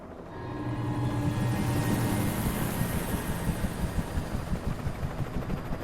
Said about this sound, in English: Oh, there's a chopper.